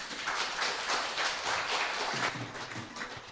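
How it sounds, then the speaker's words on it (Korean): Congregation at a Wednesday church concert giving applause, a moderate, steady patter of many hands clapping that eases toward the close with a sharp knock at the very end. "잘 보셨으면 박수 한번 쳐주세요"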